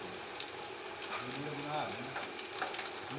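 Pieces of lemon chatkara chicken sizzle steadily in a pan, a continuous close crackling hiss with small popping bursts, and a voice is faintly heard briefly in the background.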